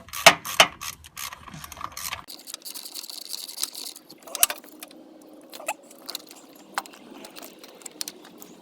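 Socket wrench working a 13mm bolt off an alternator bracket on a 2003 Ford Mustang SVT Cobra with a 4.6L engine: quick ratchet clicks and metallic clinks, close up, broken by pauses and small tool handling noises.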